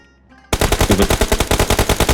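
Rapid automatic gunfire in PUBG Mobile bursts in loud and close after a brief quiet start, a steady rattling stream of shots with no talk over it.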